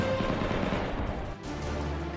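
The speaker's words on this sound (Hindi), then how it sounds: "वहां शहर के भीतर हर तरफ बमों के धमाके और गोलियों की तड़तड़ाहट सुनाई दी।" Urban combat in the Russia-Ukraine war, with a dense rattle of gunfire heard at a distance and a low rumble of blasts rolling under it.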